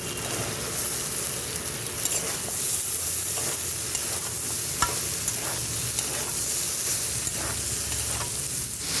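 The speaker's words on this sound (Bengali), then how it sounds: "এবার আমি দিয়ে দেবো কেটে রাখা ঝিঙেটা" Chopped ridge gourd fries in a spice masala, with a loud, continuous sizzle and repeated scraping of a spoon stirring the pan up close, no voices.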